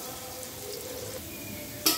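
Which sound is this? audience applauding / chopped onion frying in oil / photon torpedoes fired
chopped onion frying in oil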